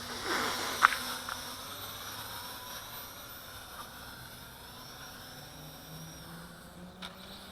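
A Syma X9 Flycar quadcopter drone flies on a weakening battery, giving a thin, steady high-pitched whine of small rotors at moderate distance, with a brief knock near the start and no talk.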